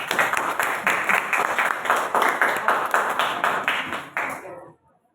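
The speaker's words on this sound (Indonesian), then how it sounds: "Tepuk tangan semuanya" A classroom full of people claps in a dense burst of applause after a group presentation, holding steady for several seconds, then quickly dying away.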